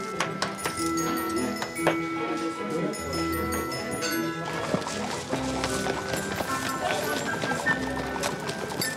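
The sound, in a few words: horse hooves clip-clopping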